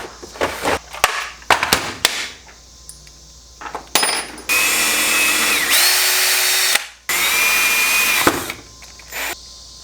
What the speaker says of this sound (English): Drill some holes.